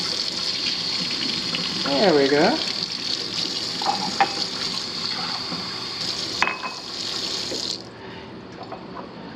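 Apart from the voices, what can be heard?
cold water running from condo kitchen tap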